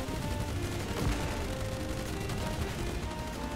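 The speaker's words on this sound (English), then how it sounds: "Oh, I have to shoot the explosive barrels." Gunfire aimed at explosive barrels in the naval game Age of Water, a steady rattle of shots with a few heavier thumps, held at a fairly low, even level with no talk.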